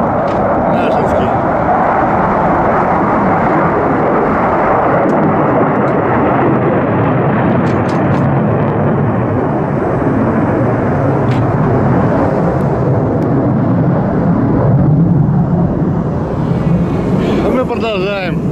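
A fixed-wing aircraft flies over near Belbek airfield on the Crimean coast, a steady loud roar sustained throughout with wind buffeting the microphone.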